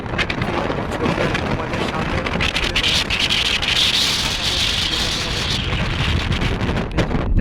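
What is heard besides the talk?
strong wind blowing over the Hooghly river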